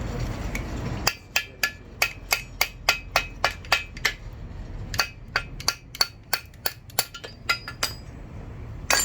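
Repeated hammer blows strike metal to knock loose a stuck lock part, roughly twenty sharp clinking hits in an uneven rhythm, close and fairly loud, with a brief pause midway.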